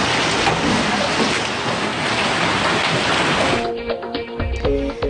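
Hail pours down during a storm in New South Wales, Australia, a dense, loud roar of stones hitting surfaces that thins out near the end into scattered clatters and knocks.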